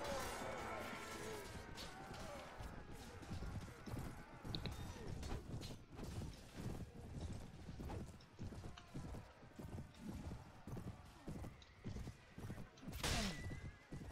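Horses gallop and neigh during a mounted medieval battle in Mount & Blade Warband, with a constant rumble of hooves, scattered clanks and a whinny rising near the end, all at low volume.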